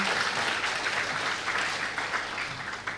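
Steady applause from a crowd at a Buddhist Dhamma talk event, dense clapping holding at an even level throughout with no voices standing out.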